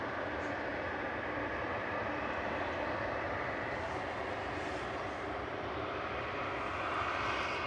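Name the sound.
Virgin Airbus A330-900neo airliner at Manchester Airport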